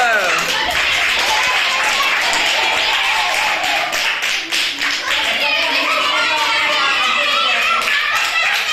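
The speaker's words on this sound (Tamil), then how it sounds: "கைதட்டு சூப்பர்." Dense, steady hand clapping in a group, likely children at an academy program session, continuing loudly throughout with voices mixed in.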